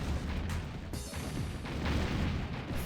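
Artillery fire in the OpenRA Red Alert video game, repeated heavy booms with sharp onsets around the half-second and one-second marks, followed by rumbling blasts and battle noise.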